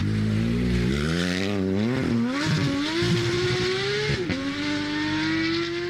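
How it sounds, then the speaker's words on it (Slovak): A Porsche engine revs and accelerates steadily, its pitch climbing through gear changes, loud and continuous with no talking. "Inak, to Porsche znie takto."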